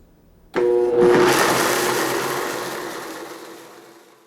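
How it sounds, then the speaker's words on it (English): A high-speed blender grinds dry green banana chips into flour, starting abruptly with a loud whirring roar that holds steady and slowly eases over a few seconds, with no talking. "pouring the dry chips into the blender and blending them until you get a fine flour"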